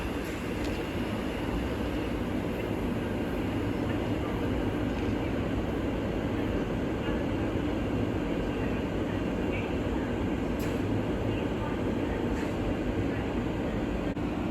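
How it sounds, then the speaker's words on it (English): A Southern passenger train from Milton Keynes Central to Clapham Junction pulls into a station, a steady loud rumble and rail roar holding evenly throughout with faint higher squeals, no voices. "Now arriving is the 1416 Southern service from Milton Keynes Central to Clapham Junction"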